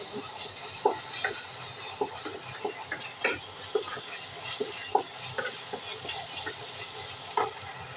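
Ginger paste and turmeric frying in a pan for a broiler chicken curry, a steady soft sizzle broken by frequent light scrapes and taps of a stirring spoon throughout, close and moderately quiet with no voices.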